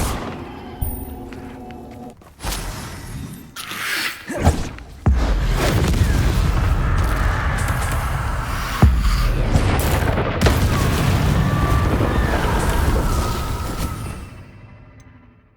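Spell explosions in Hogwarts Legacy go off as a run of loud booms and bursts, a few sharp hits first, then a dense, continuous barrage of crashing blasts that trails off into silence.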